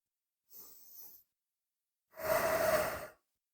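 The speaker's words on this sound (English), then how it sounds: "Take a breath or two right there." Two slow breaths taken while resting during a mat pilates workout, a soft inhale followed after a pause by a longer, louder exhale, close to the ear and alone.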